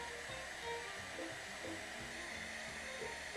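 A heat tool blows a steady, even hiss of hot air while heating clear embossing powder on cardstock covered with pigment ink, close and continuous, with faint faraway murmurs underneath.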